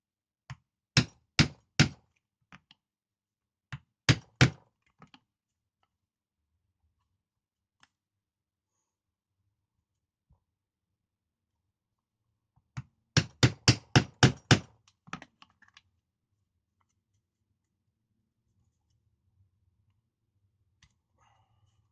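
Tandy Pro leather stitching chisels struck with a mallet, sharp loud knocks in quick groups of three to eight evenly spaced blows, separated by quiet pauses, close and alone in a still room.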